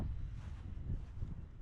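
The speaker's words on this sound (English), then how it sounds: "Really, really windy." Strong coastal wind at Port Townsend buffets the microphone in a continuous low roar, gusting unevenly with no voices.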